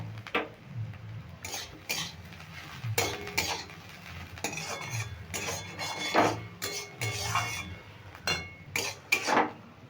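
A metal spoon scrapes and clinks against a pan and bowl as a Bengali potato, onion and poppy seed dish is scooped out, giving irregular close taps and scrapes with no talking.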